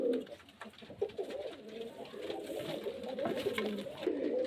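Pigeons cooing in their cages at a seller's home, a continuous overlapping chorus of throaty coos close by, fairly loud and steady throughout.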